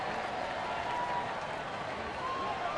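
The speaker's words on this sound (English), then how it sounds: "So the crowd doing the wave." A baseball stadium crowd doing the wave during an afternoon game, heard as a steady, distant wash of cheering and crowd noise with faint commentary-style talk mixed in.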